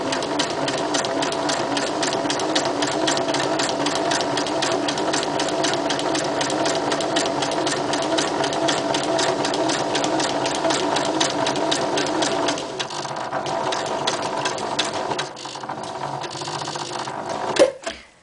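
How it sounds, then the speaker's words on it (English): A sewing machine runs zigzag stitching slowly through a handmade card, a steady rapid mechanical whirring with even needle ticks, close and loud, pausing and slowing in the last few seconds. "So I go very, very slowly when I'm doing the zigzag stitching"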